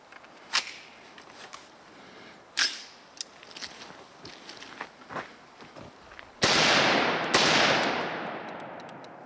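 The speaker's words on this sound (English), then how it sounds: "Let's shoot one more mag, right?" Sharp gunshots from a .300 Blackout AR pistol fed from a hex magazine, several spaced single reports early on, then two loud blasts with long ringing decay near the end, heard outdoors at close range.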